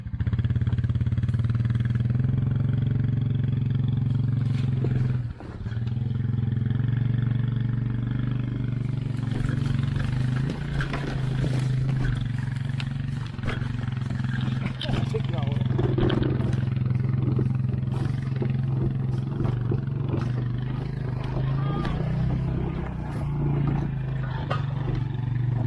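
A Honda 200 three-wheeler called Big Red roars steadily and loudly throughout while being ridden, its engine note rising and falling with throttle and a short dip early on.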